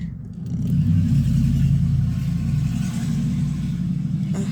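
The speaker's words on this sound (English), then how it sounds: "Those cars are so loud." A deep, steady engine rumble from a car rolls by outside, loud and continuous, fading slightly toward the end.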